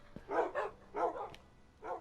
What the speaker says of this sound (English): Going a little crazy on the dogs.